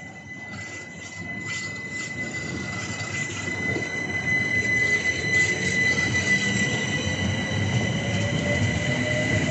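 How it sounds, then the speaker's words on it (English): A Class 376 electric train pulls out of Waterloo East station with a steady, rising roar of wheels on rail and high, sustained squeals and whines running throughout. Close and loud, with no talk. "Class 376 service, get ready to depart Waterloo East for Dartford Gravesend Sidcup."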